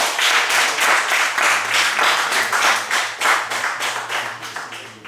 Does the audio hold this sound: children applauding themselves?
yes